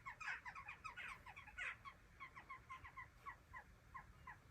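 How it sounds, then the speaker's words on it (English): Birds calling outdoors in quick repeated chirping bursts, faint and distant over low background noise, with no one talking. "I think it's because you can hear the birds."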